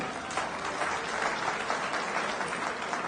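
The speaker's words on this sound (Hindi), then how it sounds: "तो नीतीश कुमार जी के लिए एक बार जोरदार ताली बजा दीजिए" Steady, dense applause from an audience at a party office gathering in Patna, a continuous wash of many hands clapping that holds at an even level throughout, with no voices over it.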